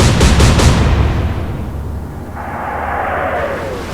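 Naval guns fire in the Atlantic Fleet warship game: a quick rapid volley of booming shots up front, then a long rumbling roar with a faint whistling tone as the shells fly, loud and alone without talk.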